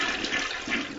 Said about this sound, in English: every time they have a shower or flush the toilet